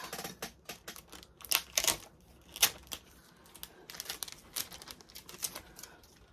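Adhesive tape pulled off a roll and pressed onto a box while a jumbo plush gift is assembled, heard as quiet crinkling and tearing crackles in irregular bursts.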